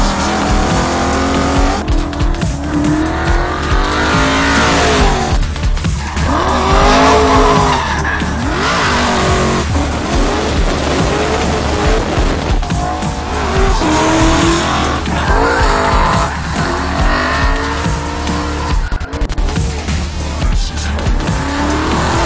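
A Ford Mustang RTR X slides sideways at high speed, tires squealing in long wavering screeches over a loud revving engine, repeated drifts sweeping past close and loud for the whole stretch.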